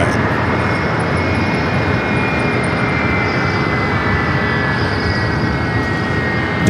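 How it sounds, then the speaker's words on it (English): Delta Boeing 757-300 jet taking off at Los Angeles International Airport, a loud continuous engine roar with steady high whine over a heavy low rumble, close and unbroken. "Delta 757 and 300. Next takeoff here on the north side."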